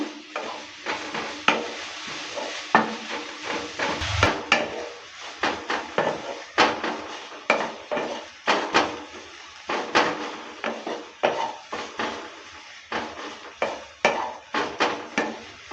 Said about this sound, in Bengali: নেড়ে চেড়ে নিয়ে ভালো করে পুর তৈরি করে নেব